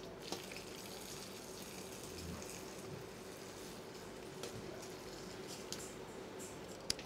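Boiling cream poured over chocolate in a pastry kitchen, a steady soft liquid stream running throughout with faint clinks, no talk.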